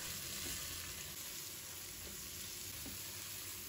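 Tomatoes stir-fry with scallions and garlic in a wok, giving a faint, steady sizzle with a few soft stirring knocks.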